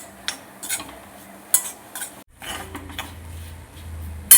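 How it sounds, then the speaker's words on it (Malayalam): A spoon stirs grated coconut roasting in coconut oil in a pan for Kerala prawn curry, with scattered scraping clinks over a faint sizzle, close and without talk. "നമുക്കിത് ഇളക്കി മൂപ്പിച്ചെടുക്കാം."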